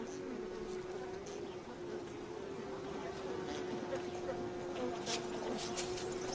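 Mason bees buzz continuously around their nest in the wild, a steady close drone with a sustained tonal hum and faint outdoor background throughout.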